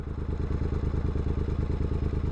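A Triumph Bonneville motorcycle engine idles steadily up close, with a loud, even, rapid low throbbing and a mechanical clatter running throughout, and no voices.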